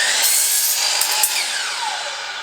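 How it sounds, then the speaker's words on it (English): A Dewalt DWS760 sliding miter saw cutting through wood, a loud, steady high-pitched whine and rasp of the blade with small knocks as it bites, close up and without talk. "Start the saw before you touch it to the wood."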